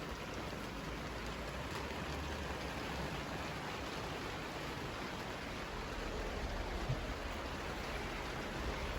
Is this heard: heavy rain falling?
yes